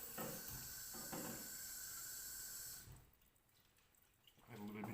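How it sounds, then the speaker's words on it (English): Water poured into a thick moussaka-style sauce in a pan for tacos gives a steady hiss and splash for about three seconds, then drops away to quiet. "Add a little bit more water"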